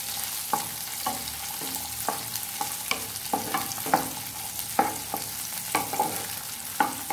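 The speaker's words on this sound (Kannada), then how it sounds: "ಅದನ್ನು ಕೂಡ ಫ್ರೈ ಮಾಡಿ. ಸ್ವಲ್ಪ ಫ್ರೈ ಆಗಲಿ." Ingredients for chilli paneer frying in a pan, with a steady sizzle underneath and regular scraping strokes of a spatula stirring about once or twice a second, close and clear with no talking.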